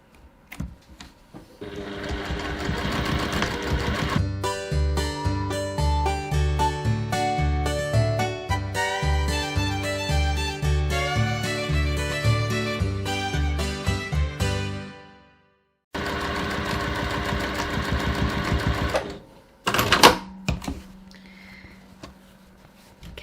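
Sewing machine stitching the long ends of a pocket, a rapid mechanical chatter in long runs, pausing briefly, then resuming for shorter bursts with a few clicks near the end.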